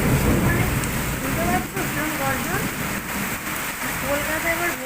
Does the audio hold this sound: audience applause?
no